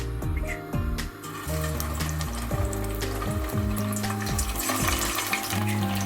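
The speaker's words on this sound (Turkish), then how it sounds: "Köftelerimizi kızartıyoruz arkadaşlar." Steady, loud sizzling and bubbling of Cypriot meatballs deep frying in hot oil, with occasional stirring clinks, continuous throughout.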